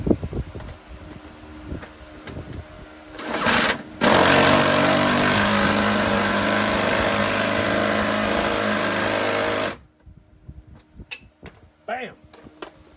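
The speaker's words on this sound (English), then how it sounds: "now that the axle snubber is on there, I'm going to tighten it down." A power tool tightens down an off-road rear axle snubber in one loud, sustained burst of hammering that lasts about six seconds, framed by brief clanks and handling noises before and after.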